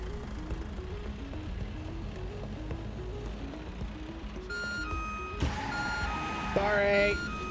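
In the video game Watch Dogs Legion, a truck's reversing alarm beeps in a steady, evenly spaced series under game music and ambient noise, with other tones layering in toward the end.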